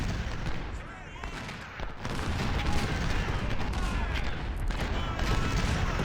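Heavy artillery fire rumbles through a wartime strategy game battle, continuous booms and crackling volleys layered thickly without pause.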